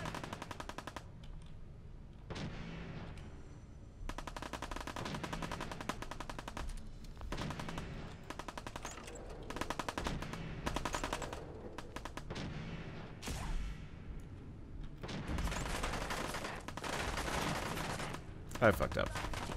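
Gunfire in the Fallout 4 video game: sustained bursts of automatic fire and shots roll on through the whole stretch, dense and fairly loud, with brief gaps between volleys and a sharper crack near the end.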